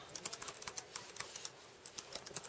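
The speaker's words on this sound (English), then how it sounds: "So you create a book, you type in your title," Rapid, faint clicking of keys being typed on a computer keyboard, a steady patter of close taps with no voices.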